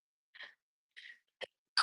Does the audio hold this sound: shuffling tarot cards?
no